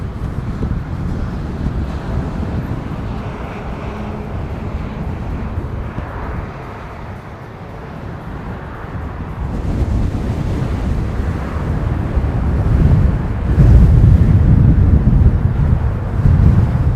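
A breezy wind buffets a microphone outdoors at a plane-spotting spot in Christchurch, a steady low roaring rumble that swells stronger toward the end, with no talk.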